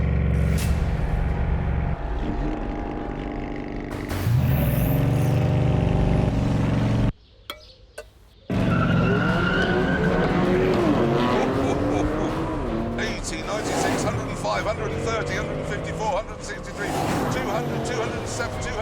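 A Bugatti Chiron accelerating hard in a drag race, its engine note climbing in repeated rising sweeps through gear changes, loud and sustained, with a brief dip to near silence partway through.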